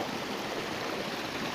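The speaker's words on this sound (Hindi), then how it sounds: "इसी पंप के द्वारा पानी हम लिफ्ट करके ये भर रहा है" Water lifted by a pump on a cow-based organic farm, a steady, even rushing flow with no breaks, moderately quiet.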